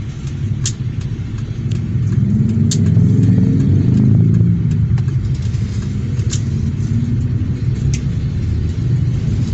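A car engine pulling away uphill and shifting into second gear during a beginner driving lesson, a steady low rumble that swells slightly in the middle, with no talk.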